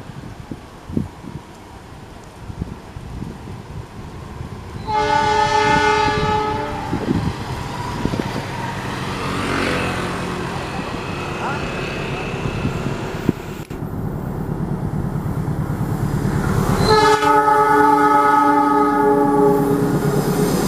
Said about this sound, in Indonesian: itu dia kereta api Argo Wilis relasi Surabaya Gubeng Bandung